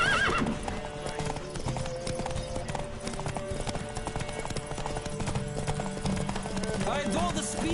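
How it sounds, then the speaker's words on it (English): A horse gallops with rapid, dense clip-clop hoofbeats and whinnies during a race in The Witcher video game. Game music and effects play continuously beneath the hooves, which stay loud from start to finish. "Riders, ready! Don't spare the horse!"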